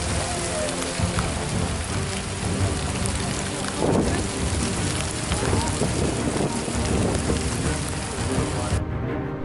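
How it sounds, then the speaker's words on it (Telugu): Steady heavy rain pours on a mountain trekking trail at Ugra Stambham, a dense continuous hiss with low rumbling that may be thunder, loud and close. "ఉగ్రస్తంభం దగ్గరికి వచ్చిన తర్వాత వర్షం."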